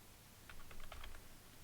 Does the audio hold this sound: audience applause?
no